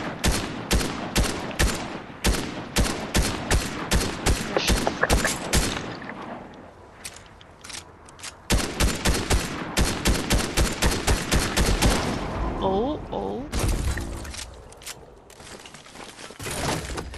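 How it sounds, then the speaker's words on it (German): Rapid, steady volleys of nearby gunfire in the Fortnite video game, firing in long rhythmic runs with short pauses, loud and close. "Oh, hier wird irgendwo geschossen."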